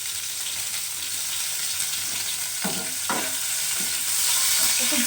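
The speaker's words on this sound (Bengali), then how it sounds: "এবারে আমি দিয়ে দিচ্ছি প্রথমে রসুন, আদা, আদা কুচানো, রসুন কুচানো" Chopped garlic and ginger frying in hot oil in a pan for chilli chicken. A steady loud sizzle runs throughout, punctuated by a few close spatula scrapes and stirs.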